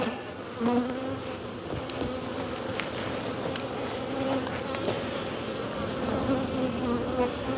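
Honeybees buzz steadily in an open hive during an inspection, with eggs and larvae on the comb; the dense, continuous drone stays close and even, and nobody speaks.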